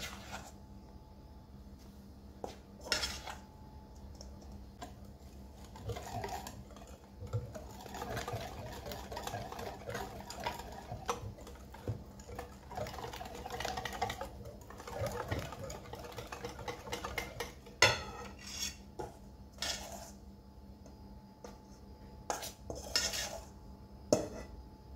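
Flour being mixed by hand into chocolate cake batter in a bowl, with steady clinking and scraping of utensil against the bowl, a continuous rhythmic stirring at moderate volume with occasional sharper knocks.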